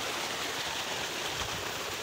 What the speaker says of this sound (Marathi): हे बघा पाण्याचे थेंब थेंब थेंब पडायला लागलेले आहेत आणि चांगले टपोरे थेंब पडायला लागलेत.